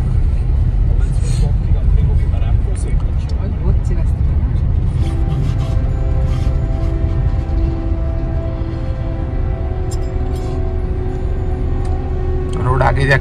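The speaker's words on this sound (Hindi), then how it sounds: "अच्छा खासा ट्रैफिक मिल रहा है अपने को।" Highway traffic near the Chenani tunnel exit on the road to Kashmir, a loud continuous low rumble of vehicles and road noise heard from inside a moving car, with a horn-like tone later and talk over it.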